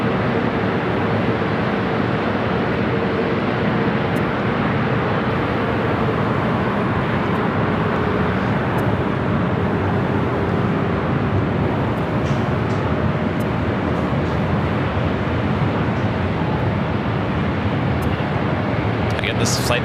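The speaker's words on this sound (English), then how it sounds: "This is flight 216 heading back to Dubai, A380 Super. Aircraft only 4 years of age. 24 left, clear for takeoff." An Emirates Airbus A380 bound for Dubai takes off from runway 24 Left at LAX: a loud, unbroken jet roar fills the whole stretch, steady and dense, with no voices over it.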